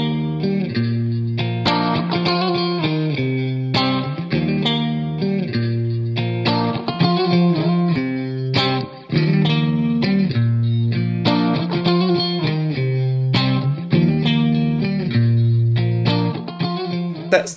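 Heavily distorted electric guitar through a Fryette Power Station power amp plays a chugging riff with sustained chords, loud and steady throughout, with no talking.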